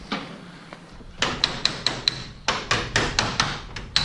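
A hammer strikes bent school bus body sheet metal to flatten it, giving a close, loud run of sharp metallic blows in uneven bursts after a quieter start.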